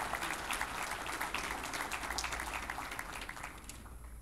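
Sustained applause from an audience at a business roundtable breakfast, steady dense clapping throughout that thins slightly toward the end.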